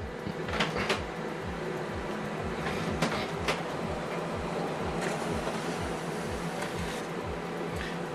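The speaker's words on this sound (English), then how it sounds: "So now this document is going to print." An HP printer runs a double-sided print job, giving off a steady mechanical whir with regular low thumping pulses and a few sharper clicks from the paper feed. The sound is continuous and close, and no one speaks.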